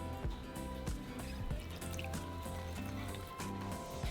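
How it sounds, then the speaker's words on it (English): Warm water poured and dripping into maseca corn flour for tortilla masa, a soft, faint trickle under steady background music. "we're going to mix it with 3/4 of a cup of warm water."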